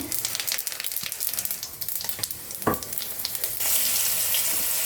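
Bay leaves, whole cumin and dried red chillies hit hot oil with a busy, crackling sizzle. The frying swells into a louder, denser hiss near the end, with no voices.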